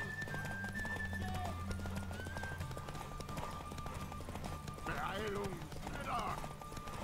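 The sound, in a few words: horse galloping in the video game The Witcher 3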